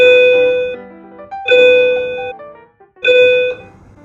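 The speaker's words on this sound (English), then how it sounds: "We inserted the sound of the school's bell at this point" A school bell rings out in three loud, resonant strikes spaced about a second and a half apart, each tone ringing on and decaying before the next.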